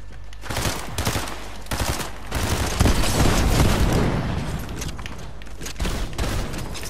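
Rapid bursts of automatic gunfire and booming blasts from Fortnite gameplay roll on continuously and loudly, with dense overlapping shots and no talking.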